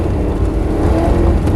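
Rear-wheel-drive car engine held on throttle while drifting, a loud continuous close roar with steady low rumble and little change over a brief stretch, no talk.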